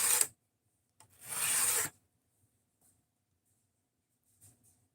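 A knife blade is sharpened freehand on a stone, two rasping strokes, a quick one and then a longer, even one, followed by quiet with a few faint taps.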